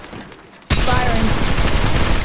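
Rapid automatic gunfire in the Apex Legends Mobile battle royale game erupts suddenly after a quieter moment and continues as a dense, loud, sustained burst.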